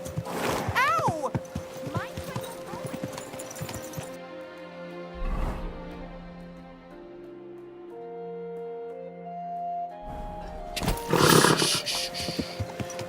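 A horse in Kingdom Come Deliverance 2 whinnies and snorts loudly up close, with sharp crashing bursts at the start and end and a tonal music-like passage in between.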